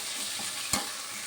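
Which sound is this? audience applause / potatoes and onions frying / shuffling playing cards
potatoes and onions frying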